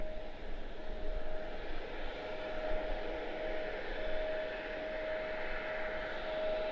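An aircraft on approach to land at Washington Dulles airport, a steady distant engine roar with a faint sustained whine, moderately quiet and fairly even throughout.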